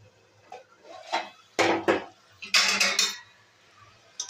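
A winter vegetable and fish-head chorchori is stirred in a pan. A spoon scrapes and knocks against the pan in several short, uneven bursts, close and fairly distinct, with quiet gaps between them.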